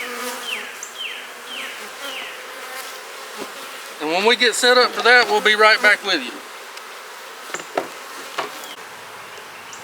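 Honeybees hum steadily around an opened hive on a windy day, a close continuous drone with someone talking partway through.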